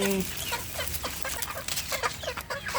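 Young, growing chicks being fed boiled egg and banana, giving off a rapid stream of short, bright clucks and peeps at close range, with a low murmur of background noise underneath.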